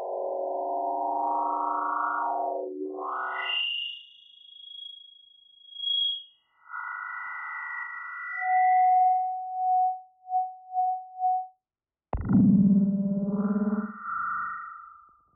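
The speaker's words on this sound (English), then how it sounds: "let's feed some of the microphone back to the speaker" Electronic whistling tones that bend, hold and pulse in short bursts, ending in a harsh swelling squeal, like feedback from a small speaker.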